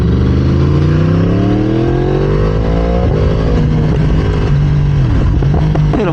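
Yamaha R1M motorcycle revving hard, engine pitch sweeping up then settling, with exhaust pops and crackles breaking through close and loud in the second half.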